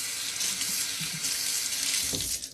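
A kitchen sink tap runs steadily as a knife is rinsed under the stream, a close, even hiss of water with a brief splash change near the end and no talking.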